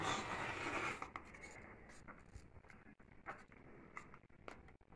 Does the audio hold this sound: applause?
no